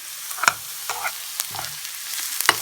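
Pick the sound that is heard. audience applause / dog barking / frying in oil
frying in oil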